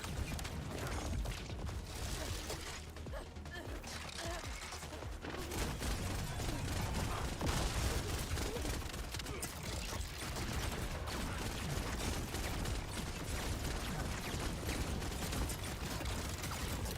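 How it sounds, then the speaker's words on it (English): Spread launcher gunfire in a looter-shooter video game, with rapid, dense mechanical bursts and clattering shots running almost continuously at high volume over a busy game soundscape. "Why is my spread launcher really shit?"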